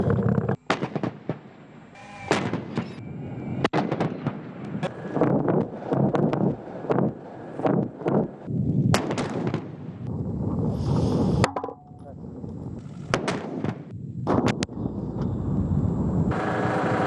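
Live-ammunition gunfire at a military tactical exercise: a dense run of sharp, loud reports and bursts, some overlapping, with wind buffeting the microphone throughout and no voices.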